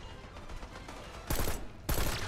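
Rifle fire in Black Ops 6, two short, loud bursts of rapid shots ringing out one after another over a low background of game ambience.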